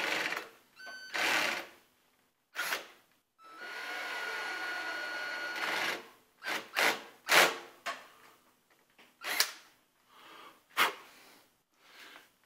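An electric drill spins slowly inside the chamber of a Daisy Model 8 air rifle, whirring in short, repeated bursts that start and stop, close and fairly quiet.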